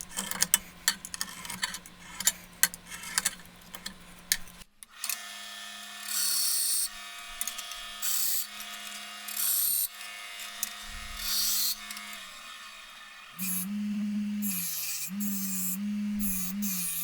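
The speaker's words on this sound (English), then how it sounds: "I'm going to chamfer out these holes." Hand filing chamfers the holes of a motorcycle muffler in a shop, with a steady run of short rasping strokes early on, then longer stretches of scraping and a sustained tonal rub near the end, moderately close.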